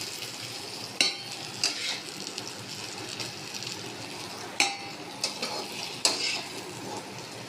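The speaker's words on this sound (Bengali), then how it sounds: "একে একে সব সবজিগুলো ভাজা হয়ে যাবে।" Vegetables frying in a kadai, a soft continuous sizzle with a handful of sharp spatula scrapes and clinks against the metal pan at irregular intervals.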